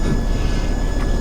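Freight train cars roll along rails in a hump yard at North Platte, Nebraska, giving a close, steady rumble with a faint metallic ring from the wheels.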